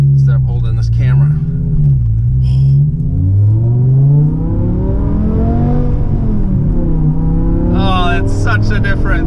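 Interior view of a V10 BMW M5 fitted with a race exhaust: a loud, steady engine drone that rises and falls as the revs climb and settle. A voice talks over it near the start and again near the end.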